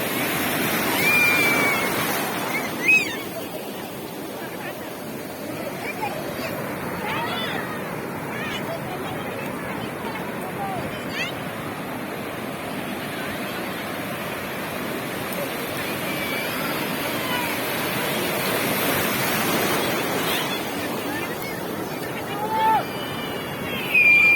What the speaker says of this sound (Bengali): কত বড় বড় ঢেউ আসছে,